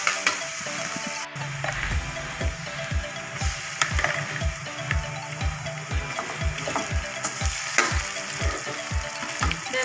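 Chicken curry sizzles and fries in a pan while being stirred, a steady close crackle broken by regular scraping knocks of the spoon against the pan, with no talking.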